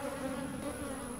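Honeybees buzz in a steady, faint drone while a hive is being split, a continuous hum with no voices.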